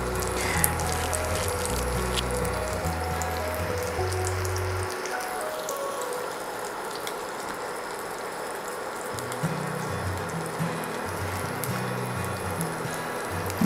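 Chicken burger patties sizzling in shallow oil in a pan, a continuous crackling fry with low thumps at the start and again toward the end, close and moderately loud with no talk.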